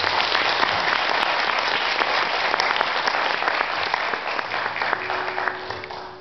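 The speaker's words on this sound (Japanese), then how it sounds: "よくにちょっと拍手をお願いします" Concert hall audience at a band show in Japan applauding a performer, steady dense clapping from the crowd that gradually tapers off near the end.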